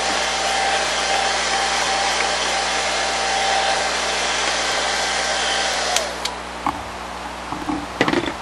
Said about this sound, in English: Hair dryer is a great way to speed up the process